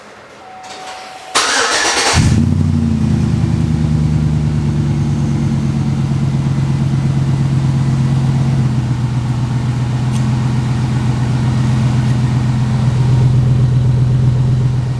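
A gasser car fitted with a new huge exhaust cranks and fires up, then settles into a deep, steady, throaty idle with a slight swell in tone toward the end; close and loud, with no talking.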